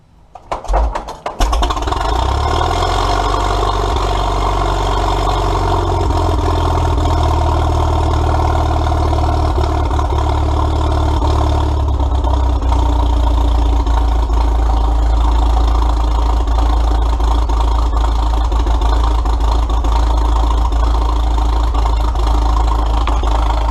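A choked engine catches after a brief stutter, then settles into a loud, steady idle that rumbles on unbroken with no voices.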